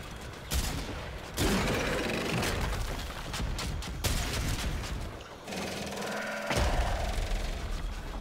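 Gunfire in the video game Warframe during a fight with a Tusk Thumper: bursts of rapid shooting and booming blasts come in close, loud volleys, with brief pauses between them.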